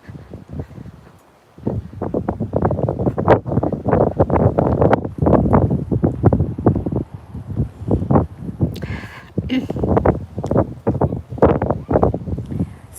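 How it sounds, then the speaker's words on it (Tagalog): Strong morning wind gusting across a large open field during a walk, loud buffeting microphone rumble that rises and falls in repeated surges for most of the stretch, with a brief lull at the start. "sobrang lakas ng hangin ngayong umaga"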